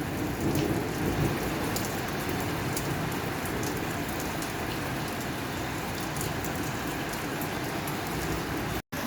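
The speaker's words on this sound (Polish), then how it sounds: "aż przyszłam tutaj na balkon żeby Wam pokazać, jak tu strasznie pada" Heavy, steady rain pours down outside a balcony, a dense even wash of falling water with scattered drops striking surfaces nearby; no voices, and it cuts off abruptly right at the end.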